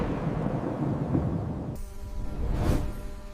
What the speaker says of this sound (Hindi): आसमान में बिजली कड़की।